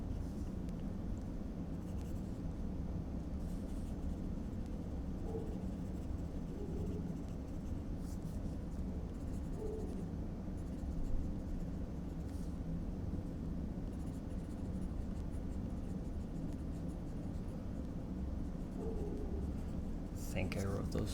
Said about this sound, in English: I'm gonna write that down so I can stay on.